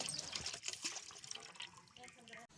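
One litre of pure native cow's milk is poured into a cooking pot for making kulfi, a soft, continuous splashing trickle of liquid close by that fades out at the end.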